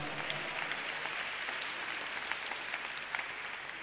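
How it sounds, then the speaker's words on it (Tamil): A church congregation at a Tamil Sunday service claps together, a fairly quiet, even rattle of many hands with a few sharper claps, heard from a distance for a few seconds. "கைதட்டுங்க பார்க்கலாம்."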